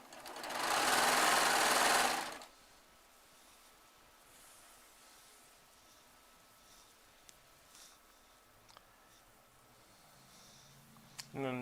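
A Baby Lock Triumph serger stitches fabric in one loud, fast whirring burst of about two seconds, then stops, leaving a quiet room with a few faint clicks.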